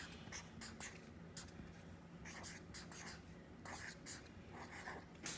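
A marker squeaks and scratches on a board in short bursts of strokes, quiet and close, with soft breathing and faint murmured speech between strokes.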